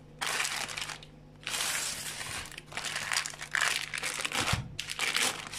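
A wrapped frozen dessert package is pulled open with loud, close crinkling and crumpling plastic in several long bursts separated by short quiet gaps, with no one speaking.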